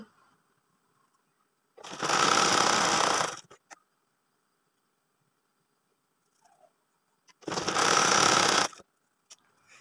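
A sewing machine stitches down a folded printed-cloth flower on a child's top, running in two rapid bursts of about one and a half seconds each with quiet pauses between and small handling clicks.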